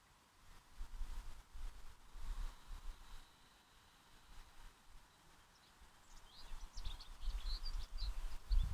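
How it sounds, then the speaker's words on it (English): Birds singing outdoors during a quiet yoga session, faint scattered chirps and tweets that grow busier toward the end over a soft low background. "The birds are in agreement with us."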